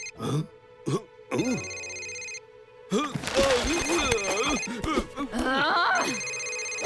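A phone rings in short repeated bursts in a cartoon, then voices start talking over a continued electronic ringtone, fairly close and clear.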